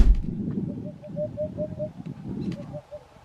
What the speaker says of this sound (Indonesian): Burung hudhud Eurasia.